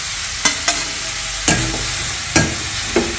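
Carrot and cashew nuts frying in a pan for a sweet made with carrot and milk, a soft steady sizzle broken by a handful of sharp spoon scrapes and taps, no talking.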